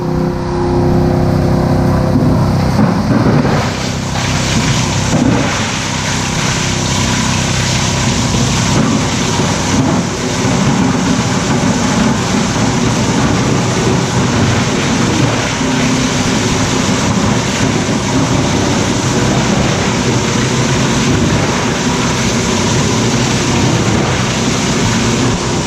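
A Zerma GSC 300-600 plastic granulator with its blower running, fed bottles, gives a loud steady broadband machine roar that holds at one level for the whole stretch, with a brief change near the start as it spins up.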